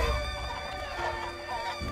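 Many chickens cluck constantly in the Totally Accurate Battle Simulator video game, a dense, busy flock sound over steady game music.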